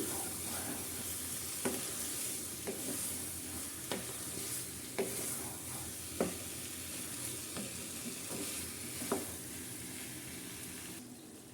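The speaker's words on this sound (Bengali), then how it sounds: "এরপর খুব ভালো করে কষিয়ে নিব" Beef chunks being stir-fried in a pot for a curry, a continuous soft sizzle with regular scraping strokes of a spoon against the pot, roughly one every second, at moderate distance.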